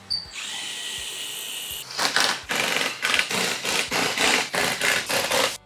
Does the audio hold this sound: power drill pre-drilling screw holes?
yes